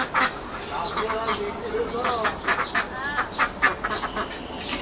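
Ducks penned up and kept off a paddy field sprayed with poison quack repeatedly and irregularly at close range, overlapping calls rising and falling, with some voices in the background.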